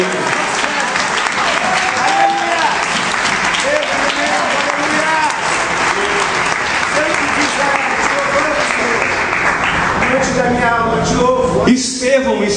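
A church congregation claps loudly and steadily through a Sunday service for the persecuted church, with voices and shouts mixed in under the sustained applause.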